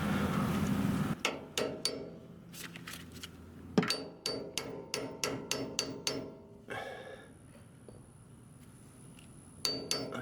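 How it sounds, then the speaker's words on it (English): A hammer taps a washer into position during an Icon stage 2 install, giving a series of sharp metallic strikes at an uneven rhythm, some single and some in quick pairs, close and fairly loud, with a quieter pause near the end. "then I'll tap it in with a hammer"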